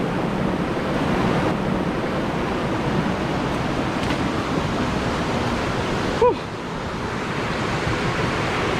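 Steady rushing of river water along a mossy, rocky stream on a trek to a hidden waterfall, a continuous broad wash with a faint voice briefly heard.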